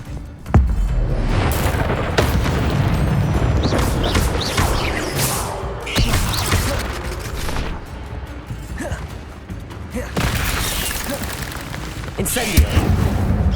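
Fire spells cast repeatedly during a Hogwarts Legacy video game battle burst out as loud booming whooshes, with several sharp impacts and crackling blasts scattered through a dense, continuous roar of combat.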